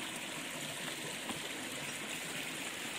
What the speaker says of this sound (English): This is a very strong water current.